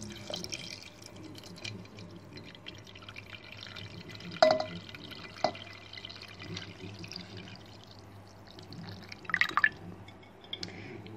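Water poured over colored stones in a decorative stone bowl, with soft drips and trickling splashes. A few sharper splashes stand out against a quiet background.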